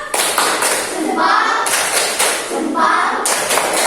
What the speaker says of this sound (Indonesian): Kita beri tepuk salut. 1, 2, 3, tepuk salut.